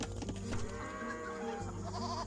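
Goats bleat in Age of Empires 2: Definitive Edition, a few wavering nasal calls packed into a couple of seconds, close and fairly loud over a busy in-game background.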